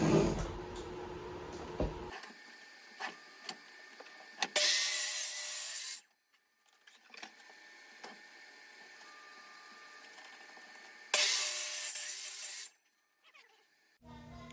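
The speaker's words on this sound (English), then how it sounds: "then we're gonna flip the piece over and then hog out this little 6-inch piece." Wood is cut for a roll-away nest box with a power saw in two loud, bright bursts of a few seconds each, separated by quieter handling noises, clicks and near-silence.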